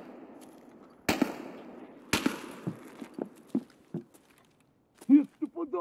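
Two sharp, loud gunshots crack a second apart in the game Escape From Tarkov, on the Shoreline map, followed by scattered thuds and impacts, then a person begins talking near the end.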